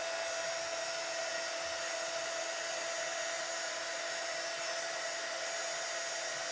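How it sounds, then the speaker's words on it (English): A heat gun blows continuously, giving a steady, even whooshing hiss with a faint whine, moderately loud and unbroken throughout, with no voices. "And I'll get my heat gun. So we're going to have a little bit of noise."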